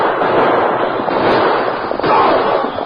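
Radio drama gunshots ring out in a dense, loud burst of overlapping reports and crackle, a continuous volley lasting a few seconds with a sharp extra crack near the end.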